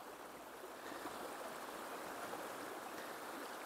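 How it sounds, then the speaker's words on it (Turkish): Melendez stream in Cappadocia flowing beneath a historic stone bridge, a steady broadband rush of water that stays even and close throughout, with no voices. "Bakın Melendez çayı muhteşem güzelliğiyle akıyor."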